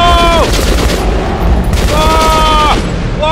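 Loud gunfire and explosive bursts in the video game Metro Last Light blend with panicked shouting and screams. A harsh wash of noise runs throughout, broken by two sharp surges.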